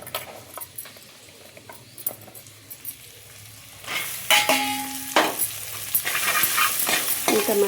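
Sliced onions fry and get stirred in a pan for paneer dum biryani, soft sizzling with scraping utensil strokes that turn louder and denser in the second half, including a short tonal beep midway.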